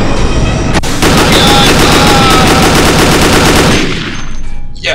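Heavy, powerful gunfire in the video game Dead Effect, a loud continuous hammering stream of rapid shots close up, cutting off sharply near the end.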